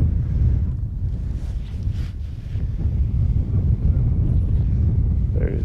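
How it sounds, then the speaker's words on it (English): Wind on a huge cliff above the shore during salmon fishing, a steady, loud, close roar buffeting the microphone with low-pitched gusts and faint voice underneath. "There's a little bit of wind today, which is gonna make things a little bit tough."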